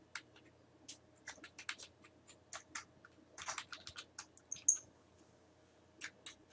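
Typing on a computer keyboard, entering a street intersection into a map search: quiet, irregular bursts of key clicks, fairly close, with no talk.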